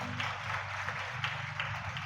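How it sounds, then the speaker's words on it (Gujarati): An audience at a motivational seminar on memory skills applauds a chief guest with a brief, fairly loud burst of clapping, a low hum and faint background voices mixed beneath it. "તાળીઓ પડવી પડે."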